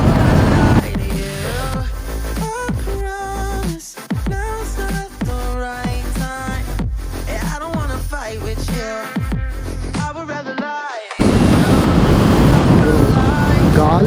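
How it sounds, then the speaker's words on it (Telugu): Strong wind blows outdoors in a village, a loud broadband roar buffeting the microphone in the final few seconds after a stretch of tonal, music-like sound. "చాలా గాలి వస్తుంది, అమ్మ ఎక్కడి నుంచి వస్తుందేమో అని చాలా గాలి కొడుతుంది"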